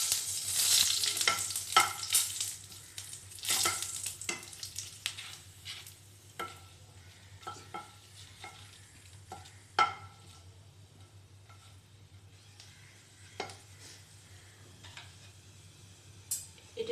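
Dried red chilies and bay leaves fry in hot oil with a low sizzle and repeated sharp clinks and scrapes of stirring, loudest at the start and then sparser.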